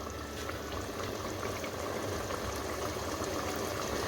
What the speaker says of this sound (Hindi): अब पानी के उबाल आने का वेट करेंगे।